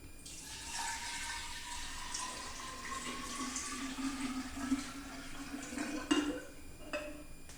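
Cold water pours steadily into a pitcher, a continuous splashing stream whose pitch climbs gradually as the vessel fills, followed by a couple of small knocks near the end, with no talking.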